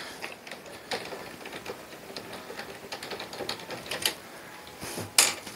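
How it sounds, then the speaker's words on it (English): A magnetic-tip screwdriver works fine thread machine screws out of an arcade Power Roll pusher, giving faint, irregular little clicks and ticks over a quiet background, with a couple of sharper taps near the end. "Handy dandy having a magnetic tip screwdriver."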